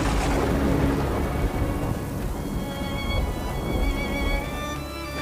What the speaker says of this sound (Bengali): শুরু হলো প্রচণ্ড ঝড় বৃষ্টি।